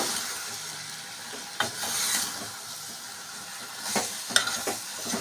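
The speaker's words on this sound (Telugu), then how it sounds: "ఒకటిన్నర స్పూన్ కారం వేస్తున్నాను సగం స్పూన్ ధనియాల పొడి బాగా కలుపుకోవాలి" Masala frying with chili powder and coriander powder gives a steady hissing sizzle, broken by occasional spoon scrapes and knocks against the pan as it is stirred, close by, with no talking.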